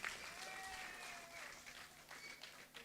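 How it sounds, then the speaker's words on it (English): A crowd applauds at a political party women's convention, with the clapping heard faintly and at a distance, lasting a few seconds as a steady wash of hands. "another round of applause for our political leader, Honorable Emmeline Pierre."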